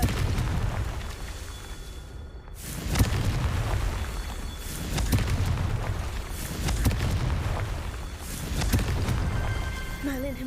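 Bombarda and Confringo spells explode during a Hogwarts Legacy battle, several deep booming blasts rolling one after another amid dense combat noise, with a voice shouting briefly.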